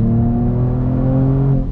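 A 2022 Mercedes-AMG E53 pulls hard under throttle, its engine note loud and close with a steady, rising drone and no voices over it.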